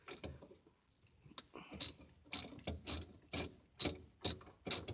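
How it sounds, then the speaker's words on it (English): A ratchet wrench with a 14 mm socket tightens an exhaust bolt on a 1998 Eclipse GS, giving a series of close, crisp clicking strokes in an uneven rhythm, each burst of ratcheting separated by short pauses. "I can get me my 14 millimeter socket with the wrench and start"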